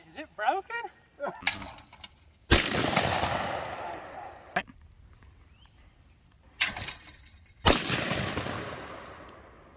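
Vintage semi-automatic shotguns, Browning A5 copies, Savage 720 and Franchi AL48, fired outdoors at clay targets: four loud, sharp blasts spread across the stretch, each followed by a long rolling echo, with brief voices before the first.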